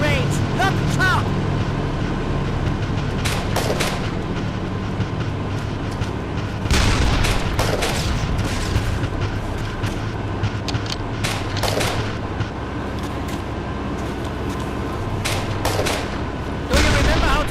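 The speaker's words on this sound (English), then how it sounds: "He will give you a carbine. Then get to the firing range." Carbine fire cracks out at a firing range in the World War II game Iron Front 2, scattered shots over dense, rumbling background noise, with voices talking through parts of it.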